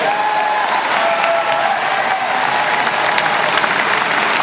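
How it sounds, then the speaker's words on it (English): Loud, dense applause from a large Star Trek convention crowd greeting the guest actors, a continuous roar of clapping sustained at full strength without pause. "round of applause for our guests, Stephen Manley, Voyage, and Takei."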